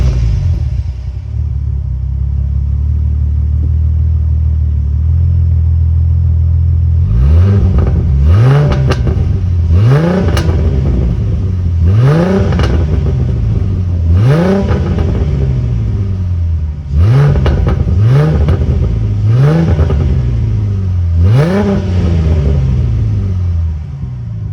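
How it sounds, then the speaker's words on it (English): A 2007 Ford Mustang V6 fitted with a new exhaust idles with a deep rumble, then is revved in a run of short sharp bursts, each climbing and falling back close by and loud. "start it up and do some revs"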